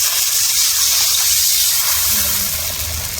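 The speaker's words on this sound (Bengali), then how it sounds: "এখন জল দিয়ে দেবো, জল দিয়ে দেবো" Water pours steadily into a pan of spiced fish curry coloured with Kashmiri chilli powder, a continuous loud gushing hiss lasting throughout with no talk.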